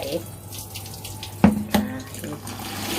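Tap water runs steadily into a sink as glutinous rice is rinsed, a continuous close splashing with a couple of sharper water knocks near the middle.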